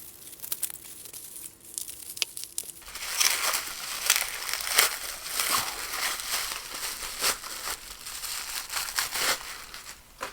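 Crinkling and tearing of packaging around a bagpipe reed pressure gauge, close and fairly quiet, starting sparse then becoming a busy run of rustles, crackles and sharp rips.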